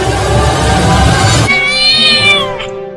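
A cartoon cat lets out a loud, close, drawn-out meow with a wavering pitch, right after a burst of busy noise.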